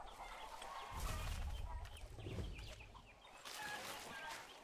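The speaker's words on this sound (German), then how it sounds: "Ach so, ein Hahn." Rooster in Far Cry 6 clucking and calling in bursts over a steady game-world rumble, with a loud low thump near the start and another bout of crowing-like calls toward the end.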